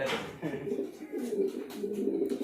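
Pigeons coo in a loft at a pigeon sale, a low steady murmur of overlapping coos with faint voices in the background.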